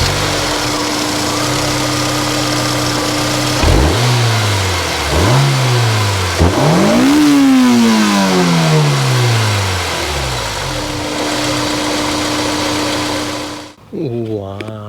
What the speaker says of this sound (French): on ne peut pas parler de la S2000 sans son moteur